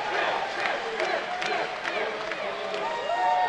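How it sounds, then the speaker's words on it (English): A crowd at the MLG Raleigh 2011 Black Ops grand finals esports event cheers and yells in a sustained, loud roar that swells toward the end, with excited voices throughout. "And the crowd is cheering them on."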